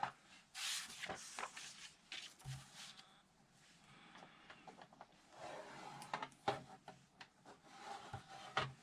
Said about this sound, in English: we want to just make a light score of 1/2 an inch on either side.